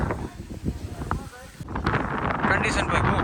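Strong wind gusts across an open farm field after rain, a steady broadband roar buffeting the microphone that grows louder and fuller midway, with someone talking over it at the start.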